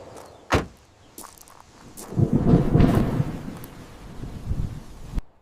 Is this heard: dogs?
no